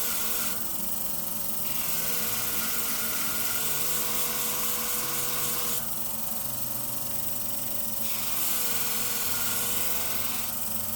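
Handheld grinder convexing the edge of curved grooming shears held in a Katoku guiding system, a steady high whine with harsher grinding passes rising and falling as the blade is worked, continuous and close.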